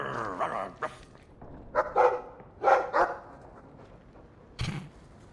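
A dog in the video game Dragon Age 2 barks in a few short, spaced yips and woofs, fairly close and clear, with one final sharp bark.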